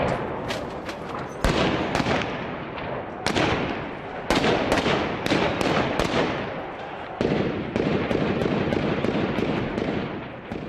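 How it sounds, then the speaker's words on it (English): Heavy gunfire during the battle for the Christian town of Maaloula, Syria: repeated loud, sharp bursts and cracks in irregular volleys, ringing out close by over a continuous rumble of fighting. "the heavy gunfire showed that the rebels were still fighting back"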